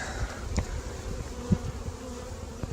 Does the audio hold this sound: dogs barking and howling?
no